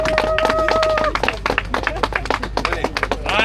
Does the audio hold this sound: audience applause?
yes